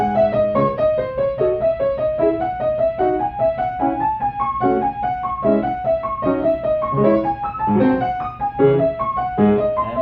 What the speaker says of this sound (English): Here's what it sounds like slowly.